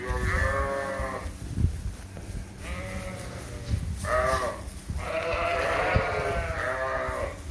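Sheep on a drought-stressed farm bleat repeatedly while feeding, several drawn-out, wavering calls overlapping from close by over a low background of chewing and shuffling, with no talk.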